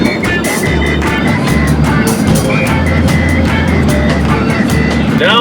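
A car driving along the coast of southwest Australia, a steady loud road and engine hum with cabin rumble throughout, continuous and near, with no talk.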